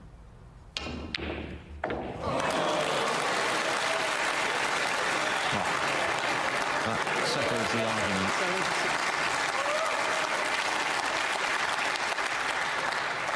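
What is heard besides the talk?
snooker crowd applause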